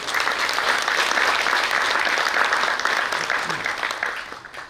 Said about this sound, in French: Je vous prie de bien vouloir vous applaudir